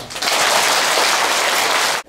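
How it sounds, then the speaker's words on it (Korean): Dense applause from an audience at a Buddhist ceremonial lantern-lighting service, loud and sustained like rushing rain, then cutting off abruptly. "자, 이제부터 잘하라고 박수 한번 치세요."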